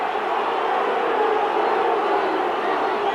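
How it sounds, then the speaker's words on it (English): A packed rugby league crowd roars wildly at a Castleford versus Wigan match, a dense sustained wall of cheering and shouting that stays loud and even throughout. "The crowd are going wild."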